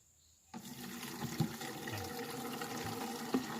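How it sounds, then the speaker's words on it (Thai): Tap water gushes into a container, starting abruptly and then running as a steady, continuous pour with a couple of small knocks. "เปิดน้ำใส่ให้ได้สีเหลืองก่อนเนาะ"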